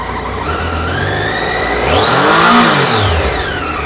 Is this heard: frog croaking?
no